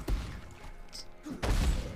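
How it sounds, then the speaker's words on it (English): Explosions from an Infernal Blow build in the Path of Exile video game, Anarchy League: a sharp burst near the start and a louder, denser blast around halfway through, both broadband and punchy with no talk over them. "Now let's explode some more things here."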